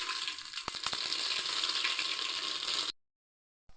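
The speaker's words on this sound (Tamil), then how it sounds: "கடுகு போட்டுக்கலாம்." Mustard seeds crackle and pop in about 200 grams of hot oil while a mutton head curry is being made, a dense steady sizzle with a few sharp pops, cutting off abruptly near the end.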